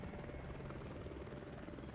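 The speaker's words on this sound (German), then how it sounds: "Ich höre einen Heli." A helicopter in the video game The Division thrums with a steady, dense rotor drone, moderately distant and constant throughout.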